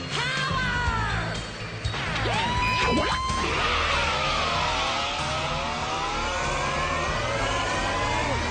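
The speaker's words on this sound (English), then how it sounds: "Listen to that engine!" A video game car engine roars and revs with rising and falling whines, loud and continuous, over a dense rumbling background.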